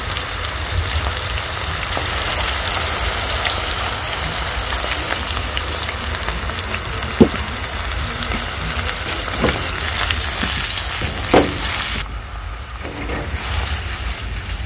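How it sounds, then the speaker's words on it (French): Onion, tomato, garlic, parsley and ginger simmer together in a pan, a dense, steady crackling sizzle like rain on a surface, close and loud, with a few small knocks and a slight drop in intensity near the end. "Le temps de laisser mijoter l'oignon, la tomate, l'ail, le persil et nos brins de gingembre."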